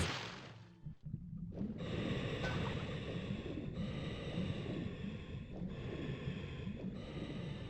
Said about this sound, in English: it's rather the frogmen. You can hear them breathing.